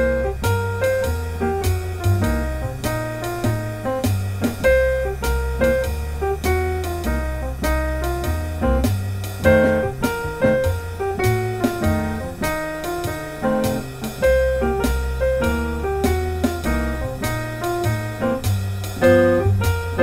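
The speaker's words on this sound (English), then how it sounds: "I'm gonna play a backing track of a 12 bar blues and I'm just gonna play this lick over the 12 bar blues." Piano plays a blues lick over a 12-bar blues backing track with drums and bass, in a steady, dense rhythmic groove that stays loud and continuous throughout.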